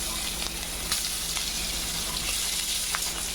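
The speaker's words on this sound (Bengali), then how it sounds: "নেড়ে চেড়ে অল্প হালকা ভেজে নেব।" Chopped onions and nigella seeds fry in oil while being stirred, giving a steady, close sizzle with a few soft scraping accents and no voices.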